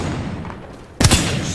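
Video game gunfire from a futuristic shooter erupts as one loud, sharp blast with a booming low tail, following a second of steady ambient rumble.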